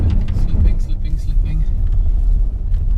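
A VW Tiguan drives over a potholed gravel track, slipping for traction, its engine and tyres rumbling low and steady up close, with a voice talking over the noise.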